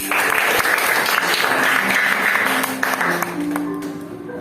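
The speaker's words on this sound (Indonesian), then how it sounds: "kalau gitu boleh dong tepuk tangan kita sama" A classroom of students claps together in a dense, steady burst of applause that lasts a few seconds, then fades slightly as a voice begins speaking beneath it.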